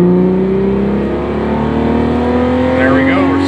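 Steady, loud engine note of a car with Bosch L-Jetronic fuel injection accelerating, pitch climbing smoothly throughout, heard from inside the vehicle.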